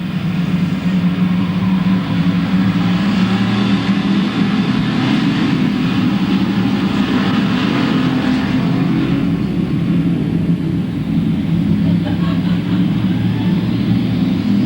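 Race cars on a figure 8 speedway at Louisville Motor Speedway in 1997, a dense, loud, continuous roar of many engines revving together, with no gaps.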